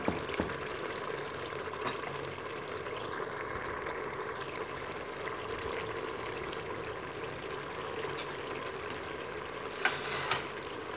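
Masala spices fry in ghee with a quiet, steady sizzle and bubbling hiss, broken by a few soft stirring clicks and scrapes.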